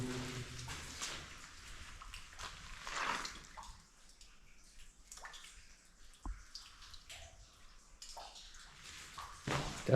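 An orange-stained stream runs through an old mine, trickling and splashing quietly, with drips close by and occasional louder gurgles and surges.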